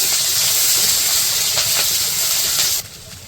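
Onion and green chili frying in oil in a wok, a dense steady sizzle and hiss with a few faint stirring scrapes, cutting off abruptly near the end, with no voices.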